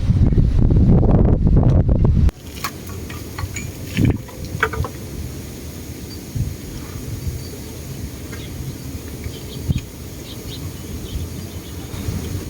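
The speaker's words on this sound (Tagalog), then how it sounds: "Kasi talagang hangin." Strong wind buffets the microphone with a heavy roar for a couple of seconds, then drops to a softer outdoor rustle with occasional thumps.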